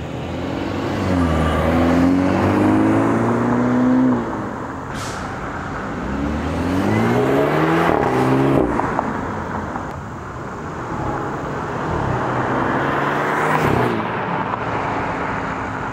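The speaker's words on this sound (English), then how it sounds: "it's a pretty good sounding exhaust, especially on a cold start" A BMW F30 328i with an M Performance exhaust revs up several times, rising and falling in pitch with deep throaty bursts, close and loud, with pauses between revs.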